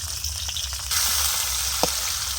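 Onion frying in hot oil, a steady close sizzle that grows brighter partway through, with a brief clink of a utensil near the end.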